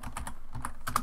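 Quick bursts of keystrokes clatter on a computer keyboard while working in Unreal Engine, close and crisp, with a brief pause in the middle of the typing run.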